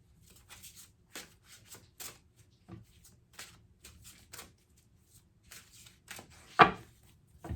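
A deck of cards shuffled in repeated short riffles and taps, quiet and close, with one sharper knock near the end.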